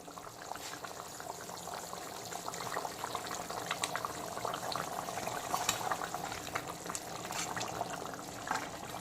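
Pomfret fish curry with nearly cooked potatoes bubbles in a gravy-filled pot, a continuous mix of popping bubbles and liquid gurgles at moderate loudness, with no voice heard.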